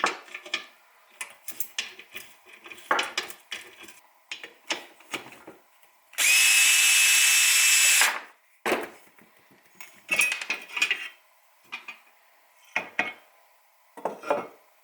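A power impact wrench buzzes loudly in one sustained burst of about two seconds while removing 8mm bolts on a Honda CRF50 build, with scattered metallic clinks and tool handling before and after.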